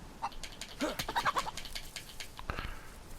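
A hen in the survival video game Livonia clucks and gobbles in a few short, faint bursts, with scattered clicks and rustles between them.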